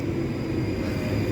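Class 458 train passing through a station, a loud, steady low rumble and rush of rolling carriages, heard close by and continuous.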